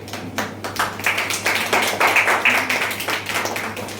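Audience clapping at a Pongal celebration meeting, a dense, loud burst of many hands applauding steadily for about four seconds with no speech over it.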